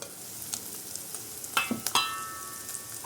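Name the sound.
pieces frying in a pan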